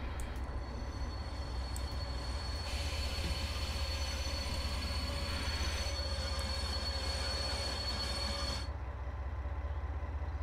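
A train in Train Sim World 3 on the Niddertalbahn rumbles steadily along the rails while a high, sustained brake squeal rings over the low drone, fairly loud and continuous, with no talking.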